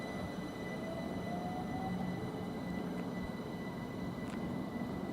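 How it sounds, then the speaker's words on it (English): Pair of Class 379 electric trains departing Potters Bar toward London King's Cross, a steady rolling rumble of wheels on track with a faint squeal, heard alone and fairly close. "And now departing, the pair of 379s off to London King's Cross."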